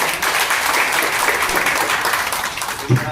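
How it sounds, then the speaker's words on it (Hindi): Audience claps to welcome a guest at a BJP organisational meeting; a brief, dense burst of applause from a seated crowd, steady and fairly loud, with a bump of noise near the end. "जरा तालियां बजाकर स्वागत"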